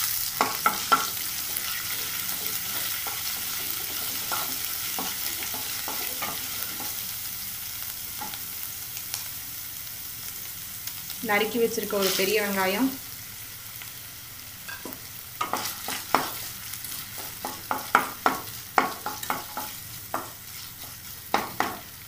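Oil sizzles steadily as onion and ginger-garlic paste fry in a pan for a potato fry, with scraping stirs and a clatter partway through; a voice speaks briefly in Tamil in the middle.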